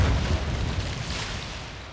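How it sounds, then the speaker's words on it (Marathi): Dynamite detonates inside a dry borewell being recharged with water, a deep, muffled boom that rumbles at the start and slowly fades over about two seconds. "आता त्याचा स्फोट होईल दुडुम"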